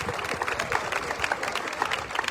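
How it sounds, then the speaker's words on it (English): A room full of people clapping at a festival award presentation, individual claps audible in a lively, uneven patter at moderate volume. "Give Bill a big round of applause."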